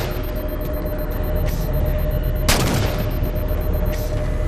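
Gunfire in the Halo 4 video game, aboard an armed Pelican, rumbling continuously with one sharp, loud blast near the middle and a few lighter hits around it.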